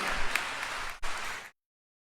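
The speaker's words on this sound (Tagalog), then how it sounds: "Palakpakan mo ang Diyos nating tagapagpagaling." A church congregation applauds in a dense burst of clapping lasting about a second and a half, with a short dip midway through, before the sound cuts off abruptly.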